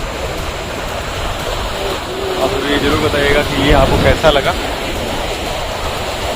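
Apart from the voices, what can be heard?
ocean waves at Kovalam Beach, Kerala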